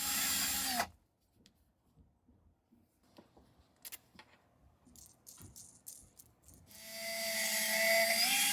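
A small metal bookbinder's tool wheel is spun on a drill and shaped with a fine file: a loud whirring run, a quiet stretch of light scrapes and rattles, then the spinning whir returns.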